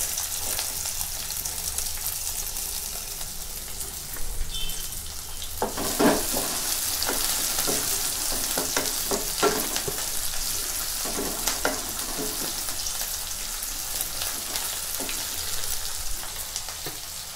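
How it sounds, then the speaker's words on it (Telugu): Sliced onions frying in hot oil with split black gram for a green chili and tamarind relish, giving a steady close sizzle with a brief louder burst as they go in and scattered stirring scrapes throughout. "ఇందులోకి ఈ నూనెలో ఈ ఉల్లిపాయలు వేసేద్దాం."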